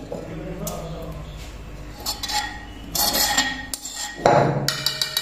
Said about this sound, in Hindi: अभी अम्मी जी ना चम्मच की मदद से इस पेस्ट को ना बाहर निकाल रही हैं और इधर ना गोश्त में डाल रही हैं।